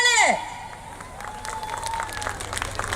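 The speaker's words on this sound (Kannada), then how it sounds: "ಜೋರಾದ ಚಪ್ಪಾಳೆ" A festival stage crowd breaks into applause and cheering; a brief tonal swoop opens, then a sustained wash of clapping with scattered sharp claps and crowd noise follows.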